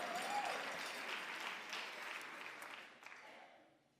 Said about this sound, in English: Yes, that deserves an applause.